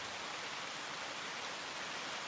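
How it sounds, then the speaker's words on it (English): Steady rain falls outside as a soft, even hiss with no breaks, faint and distant, and no one speaking. "this rain is either going to get really hard, like torrential, for the next 10 minutes"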